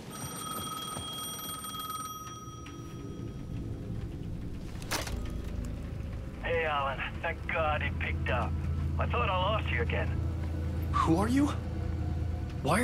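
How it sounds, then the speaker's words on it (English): A payphone rings inside the Alan Wake 2 video game, its bursts of trilling tone repeating in a steady pattern over low ambient drone, with a sharp rising electronic effect near the end. "The payphone at the edge of the plaza was ringing again."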